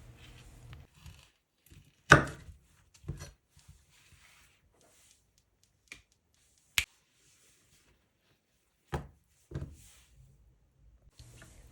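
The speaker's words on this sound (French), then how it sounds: "Puis coupez en deux chaque poire." A bread knife slices through peeled Conference pears on a cutting board, producing a few sharp, isolated thunks and clicks spaced seconds apart in an otherwise quiet kitchen.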